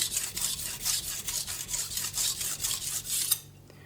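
A knife blade makes repeated short rubbing passes on a fine 8000 grit Naniwa whetstone in a steady rhythm, close and moderately loud, ending in quiet.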